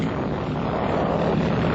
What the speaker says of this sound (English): Low-flying planes strafe the enemy.